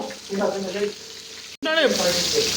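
Chicken frying in a pan gives off a loud, steady sizzle, with soft background voices and a brief break midway.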